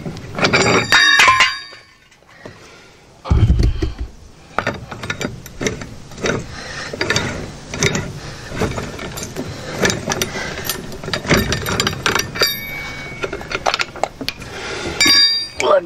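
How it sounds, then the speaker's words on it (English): Lug nuts being taken off a VW Beetle wheel hub during a drop spindle and disc brake swap, with repeated metallic clinks and ratcheting tool clicks close by, some louder bursts of wrench noise amid shop sounds. "you want to take out the rest of the lug nuts all the way"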